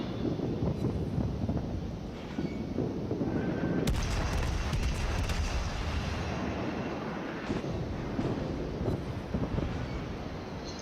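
Gun salvos from the Soviet cruiser Chapayev in World of Warships, a loud booming blast after a few seconds standing out from constant wind-like ocean rumble, with a few fainter shots later.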